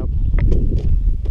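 Loud southwest wind on a farm buffets the microphone in low, rumbling gusts, with a few faint higher rustles over the steady roar.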